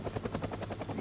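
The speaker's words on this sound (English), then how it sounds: "Oh, that's a helicopter, I think." A helicopter in the Project Zomboid video game thumps with rapid, regular rotor beats at moderate loudness, with no one talking over it.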